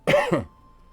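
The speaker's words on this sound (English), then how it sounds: "Got a bit of a ticklish cough." A single short, throaty cough burst, close and fairly loud, followed by near silence.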